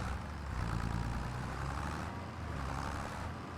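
Tractor engine in Farming Simulator 25 runs at a steady low rumble, with a constant droning hum and slight swells in level throughout.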